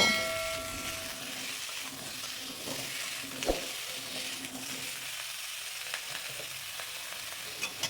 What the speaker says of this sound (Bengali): সবজিটা এখন ফোড়নের ওপরে দিয়ে ভালো করে নেড়ে ছেড়ে একটু ভেজে নেব